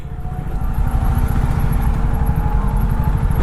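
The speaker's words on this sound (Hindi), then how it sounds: "ट्रैफिक" Busy road traffic with motorcycle engines running steadily close by, a continuous loud low rumble with no talk.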